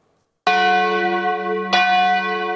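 The church bells of Erto, Italy, ring out loudly, two strong bell strikes with long resonant tones that hang and overlap.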